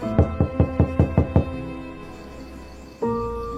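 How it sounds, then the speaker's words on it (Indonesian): Knocking on a door in an Indonesian mystical audio drama: seven quick, evenly spaced knocks, close and solid, followed by a quiet room tone and then a sustained tonal sound entering near the end. "suara ketukan membangunkan dia dari mimpinya"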